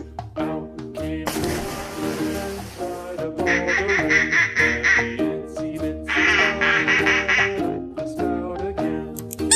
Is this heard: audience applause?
no